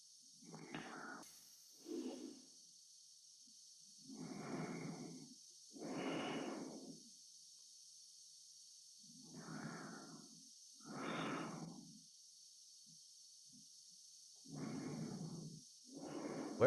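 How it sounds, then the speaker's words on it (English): Slow, heavy breaths from inside a spacesuit helmet in the 1968 film 2001: A Space Odyssey, each breath arriving every two to three seconds over a constant high hiss, with no talking. "Where is the breathing coming from?"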